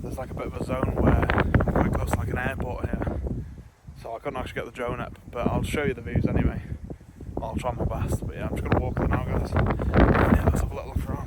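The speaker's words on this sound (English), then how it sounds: "Sorry about the wind, it is quite a windy day." Someone talks continuously outdoors at a church on a windy day while gusts buffet the microphone, producing low rumbling bursts that rise and fall under his voice.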